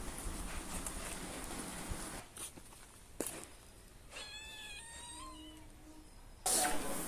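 Domestic cat meowing, a series of clear drawn-out meows in the middle of the clip, moderately close, over steady low background noise and a few bumps.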